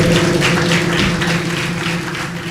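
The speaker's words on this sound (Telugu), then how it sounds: "చప్పట్లు కొడదాం గట్టిగా." A church congregation claps hard and steadily during a sermon, a dense, loud wash of applause sustained throughout with a low tonal hum underneath.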